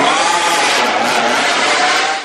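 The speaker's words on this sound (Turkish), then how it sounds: "İnanılmaz bir sesi var. Ferrari'nin sesi efsane." A Ferrari 599 GTB engine revs hard, a loud, sustained high-pitched roar close by that holds steady for a couple of seconds before easing off.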